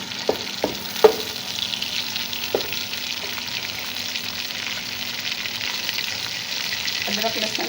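Chopped onions frying in a pan as the base of a gobi kofta curry, with a steady low sizzle and several sharp clinks of a spoon at the start and again near the end.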